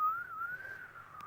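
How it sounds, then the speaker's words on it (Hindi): A man whistles a single steady, slightly wavering tone for about a second, faint and close, with no talk over it. "नहीं, मैं सीटी बजा रहा हूँ।"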